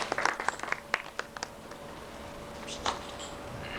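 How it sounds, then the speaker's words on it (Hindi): Scattered handclaps from a small group at a retirement function, a sparse uneven burst at the start and a few more claps near the end, moderately close over room hum. "ताली बजा थोड़ा यार।"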